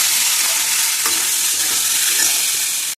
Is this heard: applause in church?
no